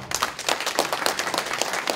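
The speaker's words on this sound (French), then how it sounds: "j'espère que vous allez l'applaudir très fort" Audience applause at a New Year's gathering honoring an association's founding president, a brisk, fairly close patter of many hands clapping irregularly without pause.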